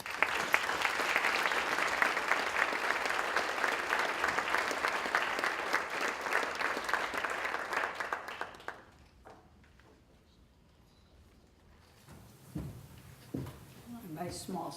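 A conference audience gives sustained, dense applause for about nine seconds for a plenary speaker, then the clapping dies away into quiet room sounds with a few soft knocks and movement.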